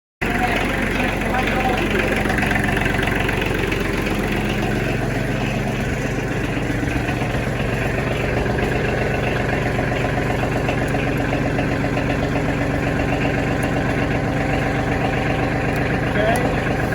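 A Kioti DK35 tractor engine idles with a steady, close diesel rumble throughout, the beat even and unchanging, while a person speaks over it.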